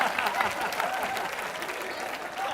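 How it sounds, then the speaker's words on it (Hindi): A studio audience at a Hindi TV comedy show bursts into dense, sustained applause and cheering that holds steady and loud throughout. "आज जोरदार तालियां हो जाएं।"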